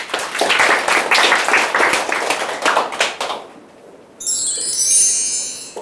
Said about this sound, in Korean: 제 말에 공감하신 박수 한번 쳐주시죠.